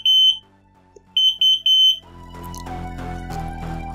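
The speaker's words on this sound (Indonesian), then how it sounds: "alarm siaga dia akan selalu bunyi terus, lebih cepat" A flood detector alarm gives rapid high-pitched electronic beeps in short bursts, loud and close, then a denser mix of tones and noise takes over for the rest.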